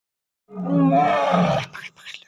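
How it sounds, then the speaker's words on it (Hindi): A lion gives a single deep, rumbling roar at night near a farmhouse in Gir National Park, Sasan Gir, lasting about a second. Faint movement follows. "अभी लायन का रोर सुनाई दिया भाई"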